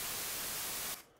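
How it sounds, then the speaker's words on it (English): White noise generated in SuperCollider plays as a steady, loud, even hiss across the full range for about a second, then cuts off abruptly into near silence. "So here's white noise,"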